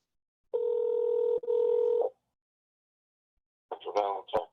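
A telephone number is dialed on a call: two long, steady electronic tones with a short break between them, then a pause and a brief burst of a voice on the line.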